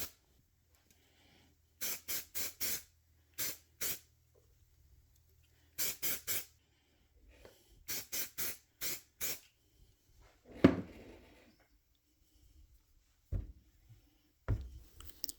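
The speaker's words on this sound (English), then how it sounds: "Little bits of flash on the silicone come off pretty easy with the air nozzle." An air nozzle blows flash off silicone X-Wing wing molds in short, sharp hissing bursts, some in quick clusters of three or four, separated by quiet gaps.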